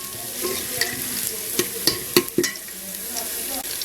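Onions sizzle and fry in a pan, browning for an aloo chicken keema, with a steady crackling hiss broken by several sharp scraping stirs of a spoon.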